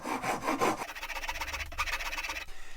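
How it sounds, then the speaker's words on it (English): Hand files rasp over a wooden Spitfire model part, shaping its top edges in quick rhythmic strokes that run close and fairly loud from start to finish, with a short pause partway through. "I'm just going to use a couple of files and get it to the right shape"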